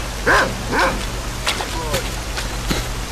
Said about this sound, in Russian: Черт, собаки чертовы.